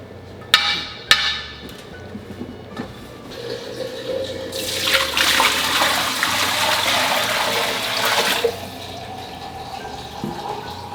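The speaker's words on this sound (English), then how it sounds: "So I'm gonna get some water heating up in our canner." Water runs from a tap into a canning pot, starting with a few clanks of the metal pot, then a loud rushing stream that fills for several seconds before shutting off, with no talk.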